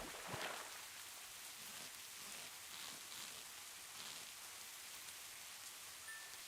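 Rain in Minecraft falls as a soft, steady hiss of drops at night, faint and even throughout with no voices over it.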